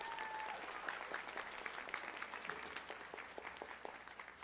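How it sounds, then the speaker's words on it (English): Steady applause from an audience at a college honors awards ceremony, many hands clapping evenly throughout, moderately loud in a large room, with a faint voice briefly underneath. "Let's give Dr. Barnes a round of applause."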